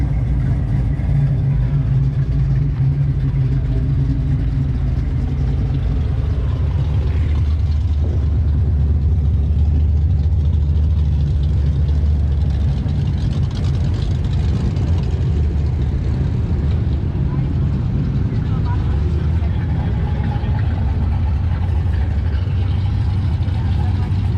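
A big-block twin-turbo drag car engine idles in the pits at Gainesville Raceway during Sick Week, a deep, steady rumble that runs throughout alongside background talk and crowd noise.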